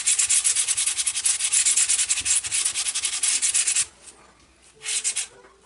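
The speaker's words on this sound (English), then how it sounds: "need to flat sand this just to get all any high spots or glue that sticks up smooth" A glued glider wing panel joint is flat-sanded with steady, close rasping strokes that run for about four seconds, stop, then return as a short final burst.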